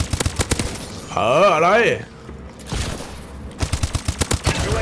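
Suppressed automatic gunfire in Call of Duty Advanced Warfare, quick rattling bursts of muffled shots at the start and end, with a rising-and-falling electronic game tone and a brief spoken word in between.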